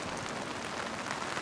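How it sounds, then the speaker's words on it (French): Monsoon rain in India falls as a steady, dense hiss of drops pattering on surfaces all around, even and continuous with no voices. "Il tombe une pluie précieuse. Une merveilleuse pluie de mousson."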